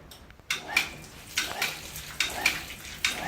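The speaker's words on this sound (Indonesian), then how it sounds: "Perhatikan nanti bunyi pompa saya" A household water pump clicks sharply and repeatedly, cycling on and off roughly once every second, over a faint hiss of water running from a half-open tap.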